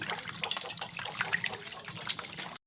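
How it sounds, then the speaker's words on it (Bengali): Fish being rinsed in a home kitchen, with close, continuous splashing and gushing water that lasts a couple of seconds before stopping abruptly. "এখন মাছ ধুয়ে নেব সুন্দর করে"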